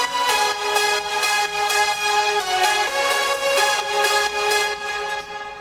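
Several layered progressive house synth leads play together in a bright, dense electronic melody, rhythmic stabs with a full, wide sound and no talking.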